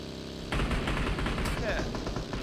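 Rapid automatic gunfire bursts out loudly in a PUBG Mobile match and keeps going as a dense run of shots after a quieter start. Players talk over the shooting.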